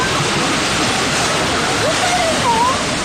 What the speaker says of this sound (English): A wall of water and mud collecting everything in its way.